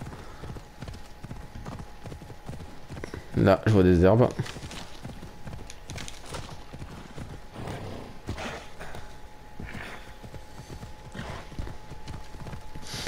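Horse hooves in Assassin's Creed Odyssey thud in a quick galloping rhythm while someone talks over them, and a short loud horse call bursts out briefly.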